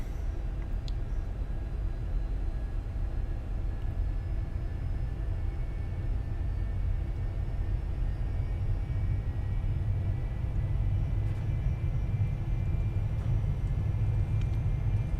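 Cessna Citation II (Carenado S550) business jet in X-Plane 11 beginning its takeoff roll, a steady loud low engine rumble and roar sustained throughout with faint high whine tones, no voices.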